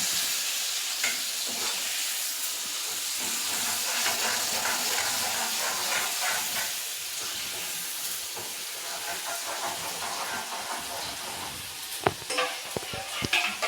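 Spices hit hot oil in a pot, giving a steady hissing sizzle with stirring, then a few sharp clatters near the end.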